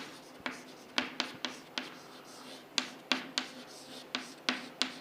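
Chalk or marker strokes on a classroom board during a database lecture, a series of sharp tapping and scraping strokes at an irregular rhythm, fairly close, with no talking over them.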